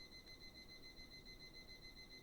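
An alarm clock going off at 6 o'clock, giving a steady high electronic beeping tone that holds throughout over a faint room hiss, with no talk.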